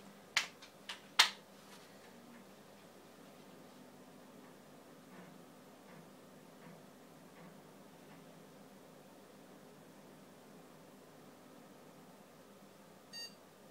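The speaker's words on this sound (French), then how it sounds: "Le PC bip, tout va bien." A few sharp electronic POST beeps from a restarting desktop PC with an overclocked Intel Core i5 750 on an Asus P7P55D board sound at the start, then a steady low hum of fans and machine noise continues, with one more faint beep near the end.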